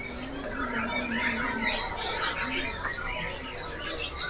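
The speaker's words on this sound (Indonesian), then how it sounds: "Nih, cucak cungko yang gacoran ya." A young cucak cungkok songbird singing in a bird kiosk, bright warbling phrases running continuously, with a faint voice in the background.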